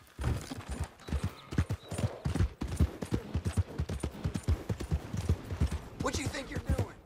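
Horse hooves clop in a quick, steady galloping rhythm while riding in Red Dead Redemption 2, close and prominent, with a voice talking over parts of it.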